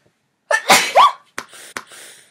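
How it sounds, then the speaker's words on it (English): A single loud, close human sneeze with a sharp breathy intake before it, followed by a couple of short sniffs and breaths in an otherwise quiet room. "Oh my goodness, I'm gonna sneeze again."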